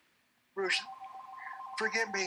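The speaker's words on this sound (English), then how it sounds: "That is my phone." A mobile phone rings with a bright, warbling tone that starts abruptly and holds for almost two seconds, close and fairly loud, while a voice talks over it.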